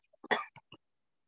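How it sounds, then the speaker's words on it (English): A single close, quiet cough with a few short throaty bursts, followed by silence. "Sorry to cough."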